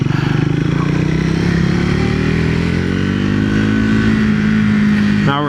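A Triumph Speed 400 motorcycle in second gear revs up close and loud, its engine note climbing steadily and then cutting off sharply near the end.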